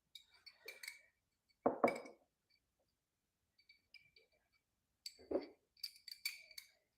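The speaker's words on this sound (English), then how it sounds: "I got to get me a spoon to get some cherries out" A metal spoon clinks against a small glass jar while cherries are scooped out in a home kitchen: scattered bright taps and scrapes in a few bursts, close and quiet, with soft handling thumps between.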